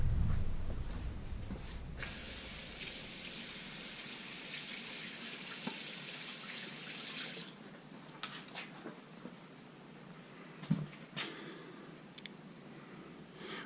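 A silicon carbide sharpening stone is rinsed under a running tap, a steady hissing gush of water for several seconds that then stops, followed by a few faint handling knocks.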